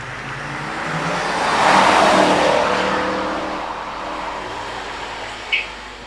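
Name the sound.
BMW E36 M3 convertible rally car accelerating on hillclimb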